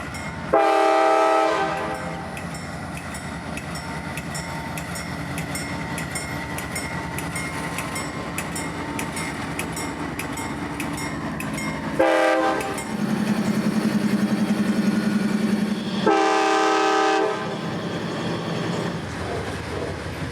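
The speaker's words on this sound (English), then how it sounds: "the two biodiesels would blast off with a healthy rock train for Winston this night" Two 1990s-era diesel locomotives haul a heavy rock train on the Brooksville Local near Tampa at night, loud and close, with several long horn blasts sounding over a steady engine roar and rolling rail noise.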